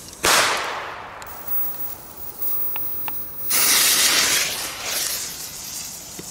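A Belgian Dum Bum firework goes off outdoors with a sharp crack and a long rushing hiss. Two small pops follow, then a second loud burst of hissing spray that fades. There is no talking.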